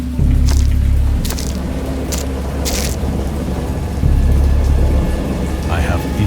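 A thunderstorm with steady, heavy rain pouring over everything, while deep rolls of thunder swell and fade in the background.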